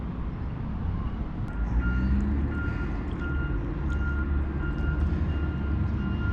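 Reversing beeps from a roadwork vehicle sound at a distance, a steady run of repeated high tones over a constant rumble of truck engines and suburban traffic.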